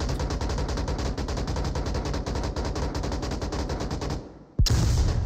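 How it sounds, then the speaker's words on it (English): Flashbang grenade going off during a competitive match in the VR shooter Onward, with a dense rapid stream of gunfire that cuts out, followed by a sudden sharp loud burst and bright ringing afterward. "Another flashbang,"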